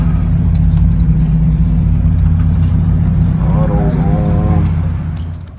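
A Mazda Miata engine running loud with its muffler cut off gives a steady, close, throaty droning rumble that holds level and then fades slightly toward the end, with a brief tonal whine in the middle.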